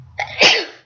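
A single loud, close human sneeze, a short sharp inhale followed by a burst of breathy noise that fades quickly, alone with no talk.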